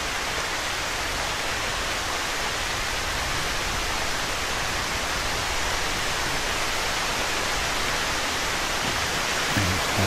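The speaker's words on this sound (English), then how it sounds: "There's the skull waterfall feature." Waterfall at a skull-shaped feature in the video game ATLAS: a constant broadband rush of falling water, steady and fairly close, with no other sounds over it.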